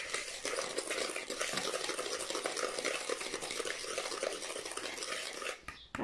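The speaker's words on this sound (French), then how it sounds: "Et on mélange tout ça ensemble." Cookie batter with vanilla flavouring being stirred in a bowl, a steady close scraping and sloshing that continues evenly for several seconds before stopping abruptly.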